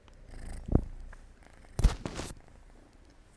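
A cat purrs in short, close bursts, two louder pulses standing out against a quiet indoor background, with no talking.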